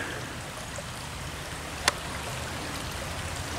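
Shallow creek water flowing steadily over rocks, a soft continuous wash with one brief sharp tick near the middle and no voices.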